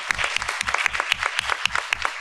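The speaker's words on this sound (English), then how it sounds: "I want to invite a round of applause for our panelists and for y'all" Applause from a panel discussion audience for the panelists, with scattered claps in an uneven rhythm, moderately close and fairly light, suggesting a small crowd in a room.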